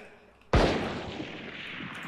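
A single sharp, loud gunshot in the video game Valorant bursts in about half a second in and rings out in a long decaying tail, with no talk over it.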